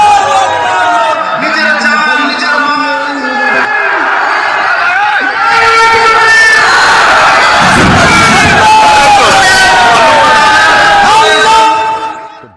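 A large crowd gathered on rooftops, windows and balconies roars and cheers loudly and continuously, a wall of shouting voices that swells partway through and stays intense almost to the end.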